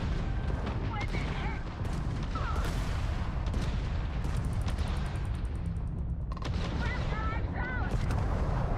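Missiles and weapons firing during Starfield space combat, producing dense, continuous loud booms and blasts with a voice talking over them.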